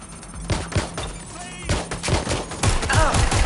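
Video game gunfire from a PS4 broadcast, with rapid, dense bursts of shots and fusillades layered over the game soundtrack and voice lines.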